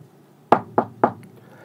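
Three evenly spaced knocks on a hospital room door, crisp and close, with a short pause after the last rap and nobody talking.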